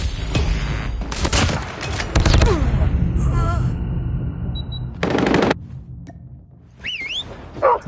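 Bursts of rapid automatic gunfire and single shots ring out in a video game firefight, loud and close, with whistling and electronic cues in between pauses.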